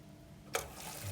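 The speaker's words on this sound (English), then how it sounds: "that's it. Water's back on." Tap water starts running abruptly after a plumbing repair, a sudden burst of broadband rushing that settles into a steady, moderately faint flow, alone without talk.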